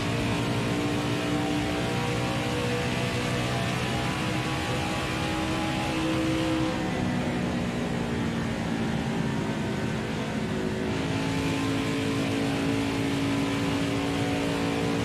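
NASCAR stock car engines racing at Homestead-Miami in NASCAR Heat 5, a continuous loud drone of several cars at sustained high revs, with pitch shifting slightly as they run the laps, no voices over it.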